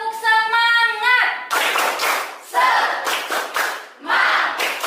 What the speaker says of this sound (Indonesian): Ketika Ibu memulai tepuk semangat, kita mulai bersama-sama